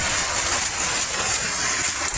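Steady rain falling over an open outdoor work site with no houses nearby, a dense, even hiss that holds at the same loudness throughout, with no voices.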